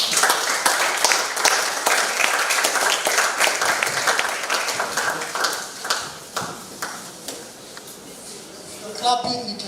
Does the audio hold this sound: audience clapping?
yes